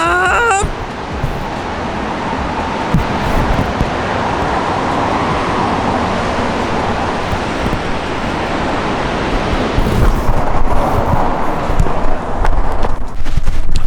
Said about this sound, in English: We're at a waterfall now.